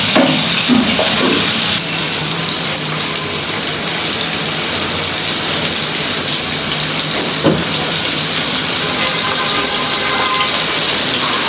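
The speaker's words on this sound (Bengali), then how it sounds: "তো মাছগুলো ভাজা হতে থাকুক।" Large fish frying in hot oil give off a loud, continuous sizzling hiss that fills the whole stretch without a break, with a few faint clinks in the background.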